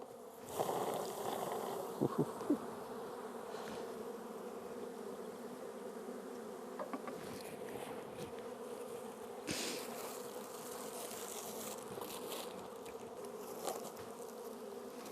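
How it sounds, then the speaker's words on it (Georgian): About a hundred honeybees shaken from a hive frame into a container give off a dense, steady buzzing drone, close and continuous throughout with slight swells in intensity. "ესე იგი ჩავყარეთ დაახლოებით 100-მდე ფუტკარი"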